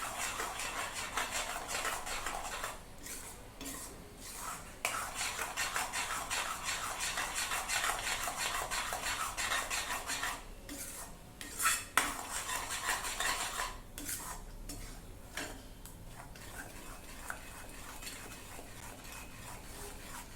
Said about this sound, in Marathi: सतत हलवत राहायचं आहे, नाहीतर खाली कढईला चिकटू शकतो